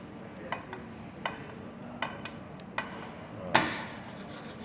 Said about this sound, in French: C'est à ce moment-là, et seulement à ce moment-là, on peut commencer éventuellement à saucer.